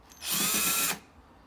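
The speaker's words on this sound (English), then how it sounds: "I'm thinking I might try and brush it using this wire wheel adapter for a drill" A power drill fitted with a wire wheel adapter brushes a classic car part, giving one loud, steady whirring, scratching burst of just under a second, close up, with no talk.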